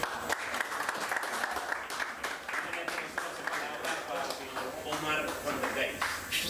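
Audience applause at a CD presentation event, a dense continuous clapping from a crowd mixed with voices and some music throughout.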